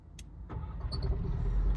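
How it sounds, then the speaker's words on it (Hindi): A Škoda car starts with an odd noise: a brief click, then the engine cranking and catching into a rising rumble, with a faint high squeak over it, close by. "स्टार्ट करते समय कुछ ऐसे आवाज़ करती है।"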